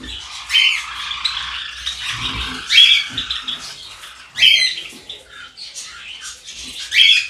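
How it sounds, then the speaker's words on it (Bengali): Caged white red-eyed java sparrows give sharp squawks and chirps in several bursts, close and fairly loud, with quieter gaps in between. "তা বন্ধুরা প্রথমে আছে এখানে জাভা পাখি, দেখো সাদা জাভা, রেড আই আছে"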